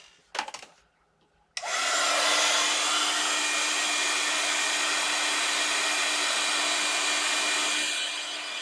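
An embossing heat tool heat-sets embossing powder on a Christmas card page. A couple of faint clicks come first, then a loud, steady blowing roar runs on without a break and eases off slightly near the end, with no talk.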